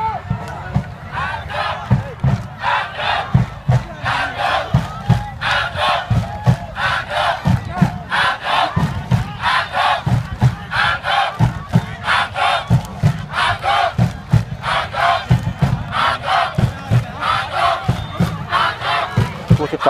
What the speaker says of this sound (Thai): ตะโกนอ่างทองอ่างทองอีกครับ